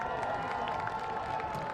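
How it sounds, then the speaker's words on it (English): Crowd applause at a high school football game, a short steady wash of clapping and crowd noise heard from a distance, with no clear voices standing out. "One more round of applause for Kalina Brill."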